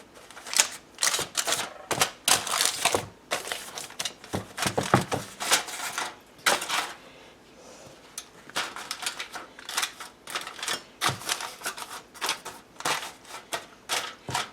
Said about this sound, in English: I'm going to cover this now with foil, hopefully without burning myself.